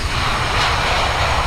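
Jet engines of an E175 airliner in Microsoft Flight Simulator give a loud, steady broadband roar and whine, continuous and close throughout, without talking.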